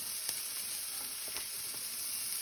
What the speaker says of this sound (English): Add the onion.